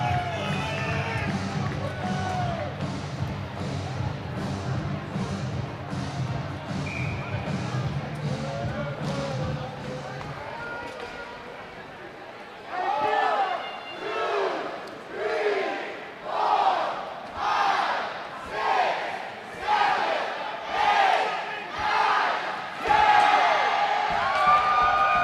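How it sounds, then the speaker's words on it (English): A sold-out, standing-room-only crowd at an ice hockey game between the Reno Ice Raiders and Park City Pioneers roars and cheers in rhythmic surging waves, following a stretch of a commentator talking over arena noise. "Standing room only, sold-out crowd, loving every minute, every goal."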